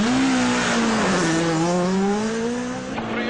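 A 2010 Skoda Fabia rally car on a Swedish ice stage holds a loud, steady engine note that wavers and rises slightly as it revs, close and unbroken, with no voices.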